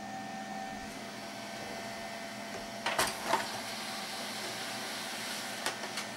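A new HP LaserJet P1102w printer runs a test page with a steady mechanical whir, punctuated midway by a couple of louder clunks and rattles as the paper feeds, then a few light clicks near the end.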